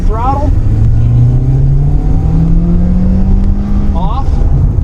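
A car accelerating hard at full throttle on a track during a teen defensive driving course, the engine note rising steadily in a long pull before a quick shift-like drop, loud and close with a voice talking briefly over it.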